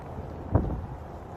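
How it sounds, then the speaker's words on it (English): Strong wind buffets the microphone during an outdoor run on a cold, near-freezing day, a steady low roar with one brief gust swelling in the middle and no voices. "But also it's very windy. You might be able to hear that."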